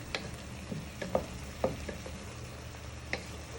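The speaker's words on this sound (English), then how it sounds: "you start to smell the onion and garlic cooking to go nice and brown and soft" Onion, garlic and mushrooms frying softly in a pan for beef stroganoff, with a low steady sizzle broken by several sharp clicks and scrapes of a utensil stirring against the pan.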